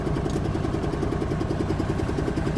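A Versatile 895 tractor's diesel engine idles steadily with a low, even chugging throb, constant and fairly loud throughout, no voices.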